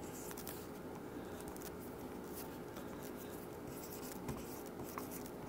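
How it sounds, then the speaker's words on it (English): Pen or marker scratching out an answer in large letters, steady continuous scribbling with faint rustles and a couple of small taps, close and quiet with no voices. "let me make sure I write it real big"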